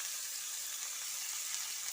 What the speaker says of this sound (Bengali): তারপরে পেঁয়াজটাকে মিডিয়াম হিটে একটু গোল্ডেন করে ভেজে নিতে হবে